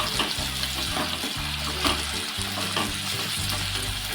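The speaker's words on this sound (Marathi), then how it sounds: "टॉमॅटो आपलं थोडं परतून घेऊया" Tomatoes sautéing in hot oil for a banana flower vegetable dish, a steady close sizzle and hiss with occasional stirring scrapes, no talk.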